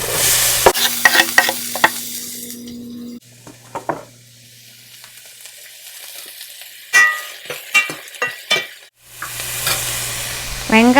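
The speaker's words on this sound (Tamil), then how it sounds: "இப்போ நம்ம நறுக்கி வச்சுருக்க வெங்காயத்தை போட்டுடலாம்." Chopped onions are tipped into hot oil with curry leaves and stirred in a pan for a spicy crab gravy. There is steady loud sizzling with scraping stir strokes and a brief lull partway through.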